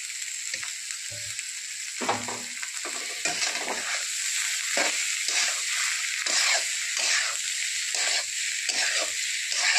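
Boiled, peeled potatoes fry in a pan with a steady bright sizzle, while a spatula stirs and scrapes at irregular intervals, producing repeated soft clatters over the continuous hiss.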